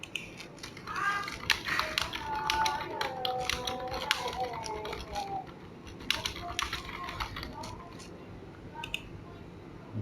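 A computer keyboard being typed on, with a run of light clicking keystrokes at an uneven pace, close and fairly quiet, blended with some background noise.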